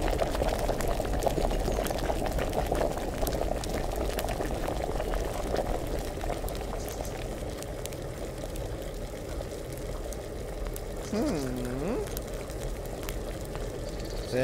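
A pot boiling on a stove in the medieval game Kingdom Come: Deliverance, a steady bubbling, gurgling wash heard close with a faint warbling tone near the end.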